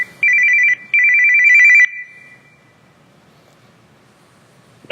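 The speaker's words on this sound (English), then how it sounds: "So what we should get now is a phone call from Amsterdam." A phone rings for an incoming call with two loud electronic ringtone bursts, then falls quiet into faint room noise.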